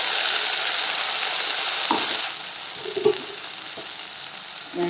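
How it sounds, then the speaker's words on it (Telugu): Tomato paste hits frying onions in a pan for tomato bath, giving a loud, steady hiss of sizzling that drops quieter after a couple of seconds, with a few soft stirring clinks and no talking. "ఇప్పుడు ఈ పేస్ట్ని ఈ ఉల్లిపాయల్లోకి యాడ్ చేసుకోండి"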